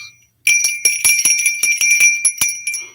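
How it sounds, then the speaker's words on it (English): A small bell rung repeatedly in quick, uneven jingles, bright and close, with several sharp strikes over about two and a half seconds after a brief quiet start. "Where's my bell? Woo! Bells, bells, bells, bells."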